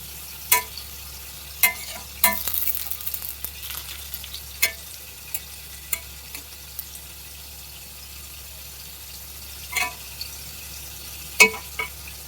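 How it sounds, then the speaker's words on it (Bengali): Bombay duck (loitta fish) fries in a pan with a steady sizzle, broken by sharp clinks and scrapes as it is stirred about a dozen times, close and alone. "প্রথমে একটু ভাজবো লাল লাল করে কালো না একটু লাল লাল করে ভাজবো গোল্ডেন হবে সোনালি করে"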